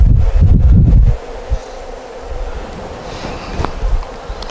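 Honey bees buzz in a soft, steady drone close to the microphone at an eight-frame hive, after a brief burst of wind rumble at the start.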